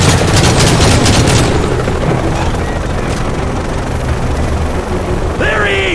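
A helicopter's rotor chops loud and steady through six seconds of combat in Call of Duty: Modern Warfare 3, with blasts and gunfire in the mix and a shrill rising tone near the end.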